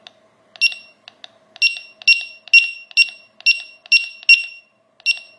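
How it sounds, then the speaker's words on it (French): Nash Siren R3 carp fishing bite alarm sounding a series of about eight loud, clear electronic beeps in a steady rhythm, close up and alone with no talk. "elle reproduit exactement le même son que la même tonalité que tu as mis sur ton détecteur"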